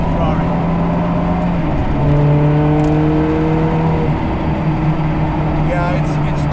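A Ferrari 360 Challenge Stradale with high mileage, driven daily, drones steadily from inside the cabin as it cruises, the engine tone shifting slightly as it pulls, continuous and fairly loud with road noise beneath.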